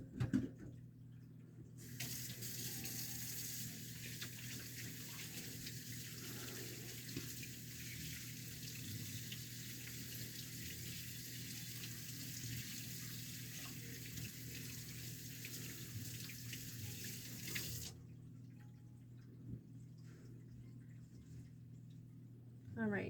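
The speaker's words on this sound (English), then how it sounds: "I'm gonna wash my hands." A kitchen tap runs in a steady, fairly close stream while hands are washed during pizza crust making, lasting about fifteen seconds before shutting off, with quiet clatter before and after.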